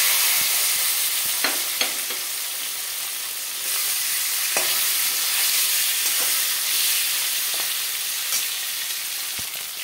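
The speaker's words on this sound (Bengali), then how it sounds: "হলুদ দিয়ে আমি মটনটাকে আগে একটু ভেজে নেব।" Mutton sizzles in hot oil with turmeric, a continuous loud hiss and crackle with occasional sharp pops and stirring scrapes, with no voices.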